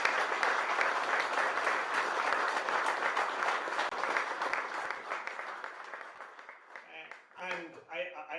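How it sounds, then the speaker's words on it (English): Audience applause at a football supporters' meeting, a dense, sustained burst of clapping from a room full of people that fades out over several seconds before a voice begins speaking. "so just an absolute round of applause"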